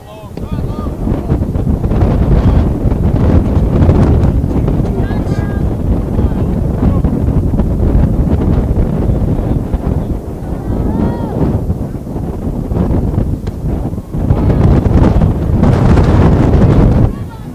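Strong wind gusts across an outdoor high school softball field during an NCCS versus AuSable Valley game, loud buffeting roar on the microphone almost continuously, with faint voices underneath.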